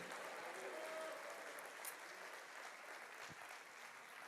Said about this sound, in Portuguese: você pode aplaudir esse Deus?